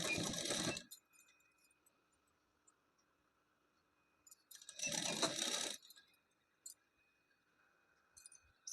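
A sewing machine stitching a blouse seam whirs in two short bursts a few seconds apart, with quiet mechanical ticks between them.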